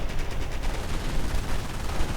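Dense, continuous gunfire from a sniper and grenadiers in a war video game, overlapping shots and bursts blending into a loud, steady rattle with no pauses.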